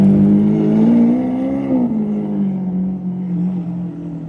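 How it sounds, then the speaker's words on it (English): Lamborghini SV Roadster fitted with a Gintani exhaust pulling away, its engine a loud, deep, steady drone that rises slightly in pitch and then settles, heard close and without voices. "There it is on the move. It's got the Gentani exhaust, which is like the secret sauce for Lambo exhausts."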